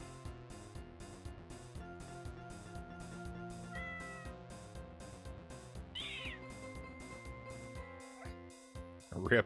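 A cat meows a couple of brief times in the video game Horace, the calls sitting inside steady, rhythmic electronic game music.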